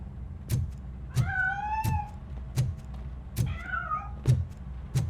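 A cat meows twice in a video game, clear and close, between regular soft thuds that keep a steady beat underneath.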